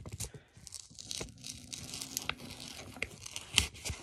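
An envelope peeled off a paper advent calendar makes soft, close tearing and crinkling bursts, with scattered paper rustles and one sharper rip near the end.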